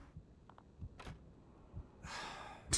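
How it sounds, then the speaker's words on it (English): Lisa breathes close behind the player in the Blair Witch video game, quiet sighing breaths and gasps over faint low thuds, ending in a louder exhale. "I hear Lisa breathing behind me."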